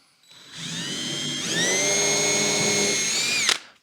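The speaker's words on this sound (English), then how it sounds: "Pre-drill." A power drill pre-drills into StarBoard plastic on a boat deck, whirring up close with a rising whine that steadies into a sustained drone for a few seconds before cutting off abruptly.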